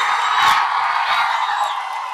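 A large crowd at Pawan Kalyan's public speech in Pithapuram roars with continuous shouting and cheering, a dense, loud wall of voices that swells briefly and then holds steady throughout.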